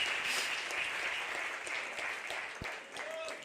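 Church congregation applauding during a Portuguese-language evangelical crusade service, a steady wash of clapping that stays dense and fairly loud throughout, with a few voices faintly audible underneath.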